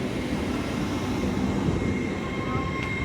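An LNER Azuma train pulls out of Newark Northgate station on the East Coast Main Line, a loud, steady rumble of wheels and traction close by, with a faint tonal whine above it.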